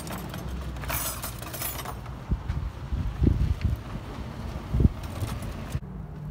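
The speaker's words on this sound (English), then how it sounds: "A little windy out here today." Wind gusting outdoors at a flea market, rumbling steadily against the microphone with heavier bursts, alongside faint rattling and clattering.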